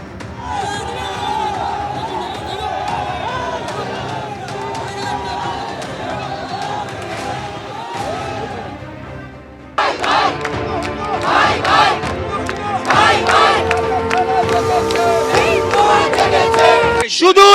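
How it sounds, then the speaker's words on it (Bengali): A crowd of Sanatani supporters outside Alipore court raising loud chanted slogans after a bail ruling, rhythmic massed shouting that grows denser and louder halfway through, with voices and commotion close by. "আলিপুর আদালতে জামিনের পরই আদালত চত্বরে স্লোগান তোলেন সনাতনীরা"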